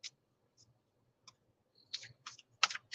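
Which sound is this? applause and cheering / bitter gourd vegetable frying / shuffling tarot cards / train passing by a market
shuffling tarot cards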